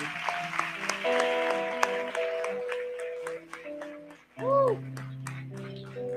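A church congregation claps along, mixed with sustained musical tones and voices; the applause is moderate and blends with the music rather than standing alone.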